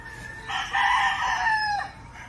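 A Stuart Yellow-Legged Hatch gamefowl rooster on a farm gives one loud, close crow lasting over a second, rising and then trailing off against a faint outdoor background.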